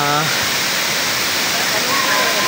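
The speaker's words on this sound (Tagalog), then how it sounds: "sa bagsakan ng tubig na yan" Balagbag Falls in Real, Quezon roars as a steady, loud rush of falling water, with a brief voice at the start over the constant broadband wash.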